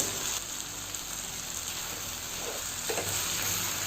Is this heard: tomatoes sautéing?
yes